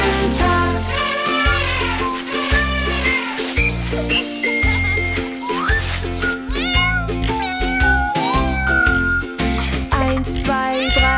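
Cartoonish cat meows rise and fall in pitch over a bouncy children's song with a steady bass beat, repeating throughout the music.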